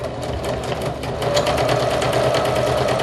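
Sewing machine stitching down a folded-over fabric edge, a close, steady whirring with rapid needle ticks that grows slightly louder partway through and runs continuously.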